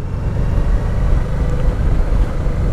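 Motorcycle engine lugging at low revs in high gear on the Col de la Bonette mountain pass, a steady, dense low rumble mixed with wind buffeting, continuous and close with no talk.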